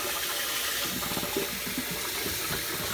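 Water runs steadily from a kitchen tap over rice being rinsed in a bowl, a continuous close splashing rush with no talk.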